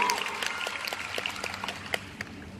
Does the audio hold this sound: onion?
no